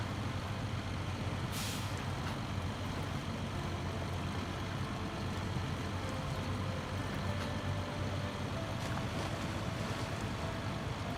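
A boat moving through water in the video game Expeditions: Amber Dusk, heard as a steady low wash of water and engine-like rumble that carries evenly throughout, with a brief higher splash or hiss near the start.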